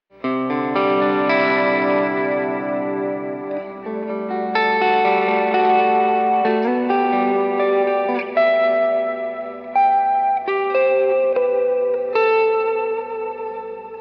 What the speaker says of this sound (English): And then here's my reverb.